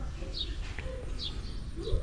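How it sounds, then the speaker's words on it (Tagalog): Domestic pigeons cooing and calling in short repeated bursts at a rural home, moderately near over a steady low rumble of background noise. "Sayan ng mga kalapati natin ngayon."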